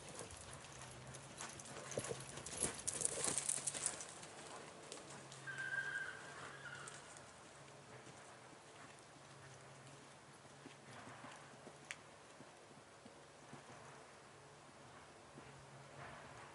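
A horse walks and then canters around a riding arena during a March 2018 riding clinic at Rancho Alegre. Its hooves clip-clop steadily at moderate distance and grow busier and louder early on before settling into softer, even footfalls.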